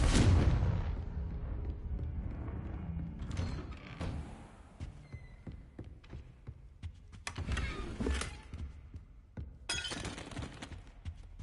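In the Hogwarts Legacy video game, Confringo blasting spells set off explosions. Loud booming blasts come with crashing, shattering debris, and there are sharp surges and sustained rumbling throughout. No voices are heard.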